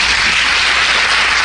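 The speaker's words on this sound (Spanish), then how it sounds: "Denle un aplauso a Jesús." Church congregation gives a round of applause, a loud, dense, continuous wash of clapping filling the room with no gaps.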